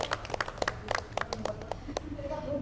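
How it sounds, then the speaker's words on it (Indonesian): A small group claps for a school theatre troupe, sparse distinct hand claps close by that thin out toward the end, where faint talking takes over. "Sekali lagi boleh dong tepuk tangannya buat teman-teman dari Teater Prada."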